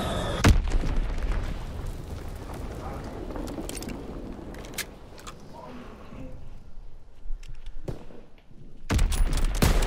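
Gunfire in a WW2 multiplayer video game match: scattered sharp shots and bursts over a steady background rumble, with a loud boom near the start and another heavy burst at the end.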